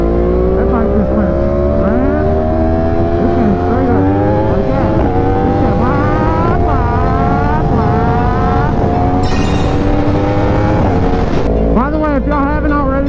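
A motorcycle speeds past, its loud engine whine rising and falling through shifting pitches in a sustained, roaring pass that dominates the scene.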